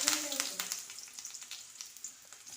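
Mustard seeds, curry leaves and onion frying in hot oil, a faint crackling sizzle with scattered small pops and light spoon clicks, quiet and close.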